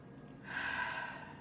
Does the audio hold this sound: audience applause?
no